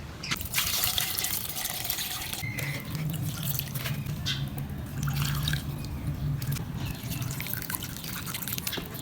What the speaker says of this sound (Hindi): उससे पहले मैंने कहा पौधे पड़े हुए तो इनको पानी डाल दूँ।